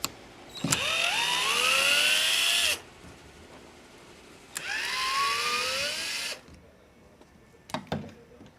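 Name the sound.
electric screwdriver removing screws from crate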